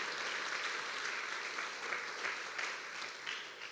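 Steady applause from a church congregation at a worship service, moderately distant and sustained throughout, with no voices over it.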